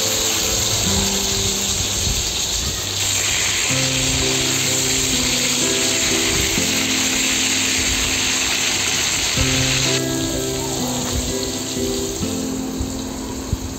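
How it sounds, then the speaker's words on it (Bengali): Potatoes coated in salt and turmeric fry in hot oil in a wok, making a loud, continuous sizzling hiss throughout, with a steady tonal layer running underneath. "এবার কড়াইতে তেল দিয়ে দিয়েছি এবং ওই তেলে নুন হলুদ মাখিয়ে রাখা আলুগুলো ভালো করে ভেজে নিচ্ছি"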